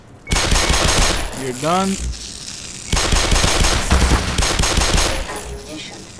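Automated turrets in the Black Mesa game spraying rapid machine-gun fire, loud dense bursts in two long volleys with a brief pause between, a voice speaking briefly during the shooting.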